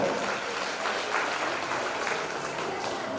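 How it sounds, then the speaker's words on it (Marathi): Steady audience applause fills a school prize-distribution ceremony, a dense continuous patter of many hands clapping at even strength with no voices over it. "तुमच्या टाळ्या त्या सन्मानाची उंची वाढवतात"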